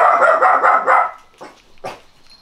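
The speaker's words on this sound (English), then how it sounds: "Dogs. Dog cannot stop." A dog barks repeatedly and loudly in a quick run of close barks, then gives two shorter, more separated barks as the sound trails off.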